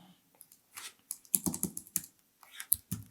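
Quick, uneven bursts of keystrokes on a computer keyboard, close and fairly quiet, with short pauses between runs of typing.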